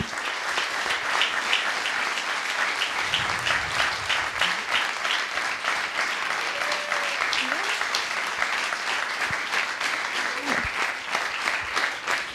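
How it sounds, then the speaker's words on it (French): Sustained crowd applause fills the room at a Limoges fashion show as jewellery designers are presented, dense and steady throughout, with a few brief voices rising above it. "Et qu'on peut applaudir pour les bijoux."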